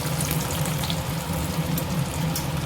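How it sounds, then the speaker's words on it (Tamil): Homemade evening snack dough slid into hot, darkened frying oil on a low-flame stove, giving a steady close bubbling sizzle that runs unbroken and fairly loud, with no talk. "எண்ணெய் காஞ்சிருச்சு. நம்ம செஞ்சு வச்சுருக்கத போடுறோம்."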